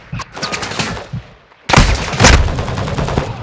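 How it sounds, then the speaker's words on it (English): Gunfire in the video game Call of Duty: Modern Warfare II, a few scattered shots followed by a loud, dense burst of rapid automatic fire with heavy low rumble, close and intense. "Taking effective fire."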